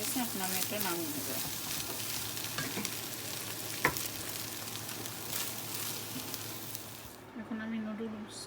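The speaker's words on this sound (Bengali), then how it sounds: "দেখে আমি একটু নেড়ে ছেড়ে দিচ্ছি, যাতে পুড়ে না যায়।" Egg frying and being stirred in a pan for noodles, a steady close sizzle with scraping stirs and one sharp clink, fading near the end where a faint voice is heard.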